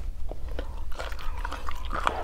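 Close, crisp bites and chewing on a Vietnamese home-style meal of hot rice with sliced chili peppers, several crunchy bites in a row without talk.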